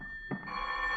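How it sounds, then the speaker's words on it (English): A telephone bell rings in an old-time radio drama, breaking in after a moment of quiet with one sustained, bright ring that carries to the end. "your nervous pacing is interrupted by the ringing of the telephone"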